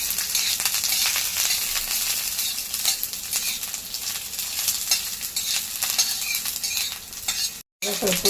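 Curry leaves, green chillies and garlic roast in a hot pan, giving a steady close sizzle with stirring scrapes throughout and a brief break near the end.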